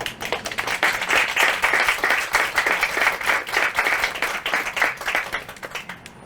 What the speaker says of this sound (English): we really need to applaud that